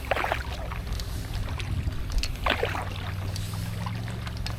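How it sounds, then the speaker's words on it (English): A Blue Wave kayak fitted with a skeg paddles across Loch Stroan in Scotland, with soft irregular paddle splashes and drips over quiet wind. "first time paddling the blue wave with a skeg in it"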